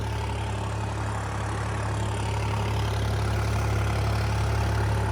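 A Holland tractor engine running at a steady, loud, low rumble. The hum is continuous and even, close by, with no voices.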